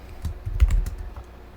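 Typing on a computer keyboard, a short burst of close, light key clicks with a brief cluster of taps in the middle, no voices.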